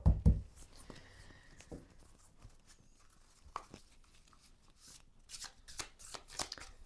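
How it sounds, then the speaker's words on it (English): A deck of 60 waxy-finish cards is riffled and shuffled up close, crisp flutters and soft taps after an initial thump, fairly quiet. "Shuffle beautifully because of the waxy nature of the cards."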